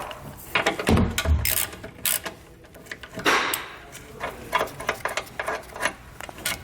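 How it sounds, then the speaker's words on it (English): A socket ratchet loosens an 18mm bolt while a base plate kit goes onto a 2018 Chevrolet Silverado, giving irregular close clicks and metallic clanks in short bursts with quieter handling noise between them. "We're now ready to remove this 18mm bolt as well."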